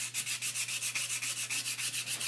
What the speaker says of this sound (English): take a piece of it and put it on the shaft and evenly just sand the shaft down